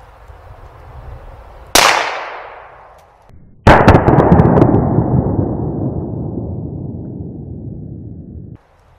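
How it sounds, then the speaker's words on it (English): A Browning Challenger 22 long rifle round strikes a bulletproof helmet: two sharp, loud bangs a couple of seconds apart, each followed by a long metallic ringing decay, with no talk. "first shot, we're gonna be using the Browning Challenger 2 22 long rifle"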